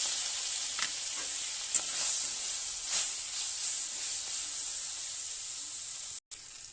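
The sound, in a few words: small fish gills frying in hot oil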